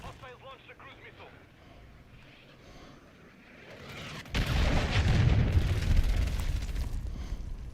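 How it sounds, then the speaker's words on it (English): A cruise missile detonates in Call of Duty Modern Warfare III, breaking into a sudden loud, deep blast midway that swells into a sustained rumbling roar, after quieter battlefield ambience with faint voices at the start. "Hostiles launched a cruise missile."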